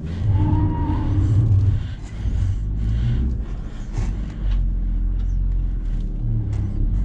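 A car engine strains and revs under load while climbing a steep rocky slope, a loud continuous low rumble that surges and dips across the whole stretch, with a person's voice briefly audible early on.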